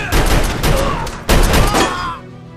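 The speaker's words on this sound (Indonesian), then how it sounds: "Dan akhirnya baku tembak pun terjadi." A rapid exchange of gunfire in a prison shootout from a Stallone and Schwarzenegger action film, dense overlapping shots in two loud bursts with a short gap between them, no voices.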